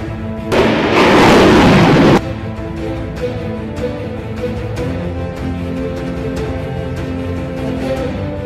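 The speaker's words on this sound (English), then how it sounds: "Patriot missile system springs into action, swiftly locking onto its target and unleashing its lethal payload with jaw-dropping precision." MIM-104 Patriot missile launch: a loud, roaring blast bursting out for under two seconds, followed by a lingering low rumble fading into the distance.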